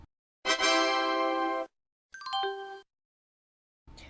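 Windows 3.1 startup sound: two short synthesized chime phrases with bright, ringing harmonic tones, a longer sustained chord followed by a falling arpeggio-like figure, with silences between.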